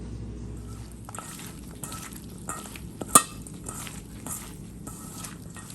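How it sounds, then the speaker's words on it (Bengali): Fenugreek seeds sizzling in hot oil in a wok, a close, even crackling fry that runs throughout, broken by one sharp click of a utensil. "এই যে আমি তেলে কড়াইয়ে বসাই দিছি, কড়াই গরম হওয়ার পরে আমি মেথি দিয়ে দিছি অল্প একটু"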